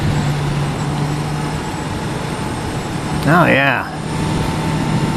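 A new motorcycle's engine runs in a steady, even drone, with someone briefly speaking over it partway through.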